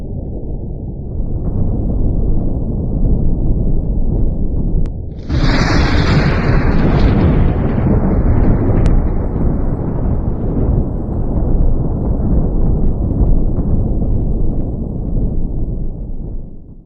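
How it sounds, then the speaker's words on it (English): Loud, continuous rumbling roar of a squall at sea, with heavy wind gusting 28 to 35 knots and deep booming thunder; a sharp crack bursts out partway through. "we'd have a severe weather storm come through. A big squall."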